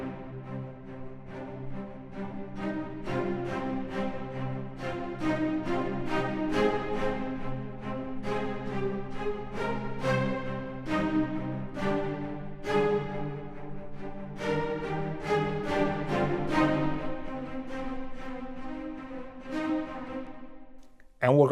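Orchestral cellos and violas play together in a sustained, swelling ensemble passage with a moderate, steady level, ending abruptly, and no voices.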